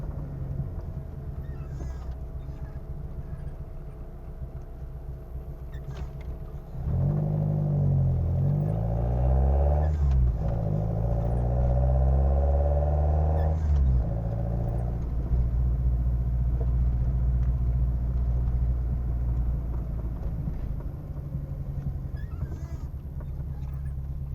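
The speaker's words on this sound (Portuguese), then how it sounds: "2000 RPM mais ou menos, eu tô trocando de marcha. Tô andando de boaça aqui pra vocês verem." A Chevrolet Kadett GS engine on a Solex C40 ADDHE carburetor running on ethanol drones steadily from inside the car, rising in pitch as it accelerates and dropping at each gear change, then settling into a cruising rumble.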